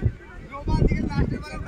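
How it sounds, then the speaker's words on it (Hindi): Wind gusts across an outdoor cricket match, buffeting the microphone in uneven rumbling bursts while players talk loudly over it. "क्या हवा चल रही है यार,"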